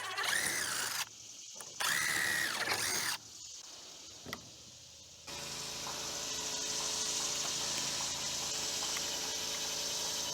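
A drill bores through a heavy steel plate beneath a trailer's wooden floorboard, giving loud high-pitched squealing bursts with short pauses, then a steadier continuous grinding whine.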